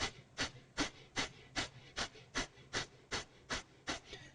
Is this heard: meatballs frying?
no